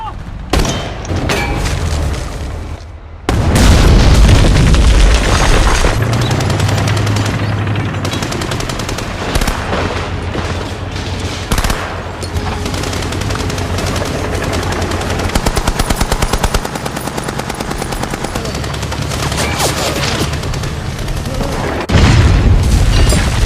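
A war film battle pits Finnish troops firing anti-tank rifles against Soviet tanks, with loud, sustained bursts of gunfire, heavy booms and explosions rolling continuously, and brief lulls between volleys.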